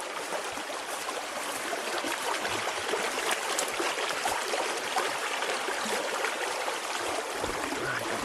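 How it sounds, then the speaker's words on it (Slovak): Continuous broadband rushing and trickling of a forest stream being crossed in dense, overgrown woodland in the Orava forests near Javorinky and Ostrý vrch, steady and close throughout with no talk. "ideme prejsť cez potok"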